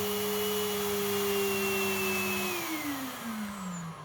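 A MediPower professional manicure drill's built-in vacuum suction whirs steadily up close, its motor pitch holding then sliding downward as the speed is turned back.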